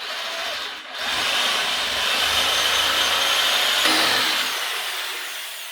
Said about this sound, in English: So reciprocating saw, just get in there.